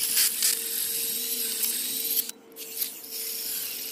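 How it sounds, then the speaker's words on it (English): A lawn mower blade is sharpened with a steady, hissing grind carrying a constant high whine, briefly interrupted and then resumed, with no talking. "So I'll go ahead and keep sharpening."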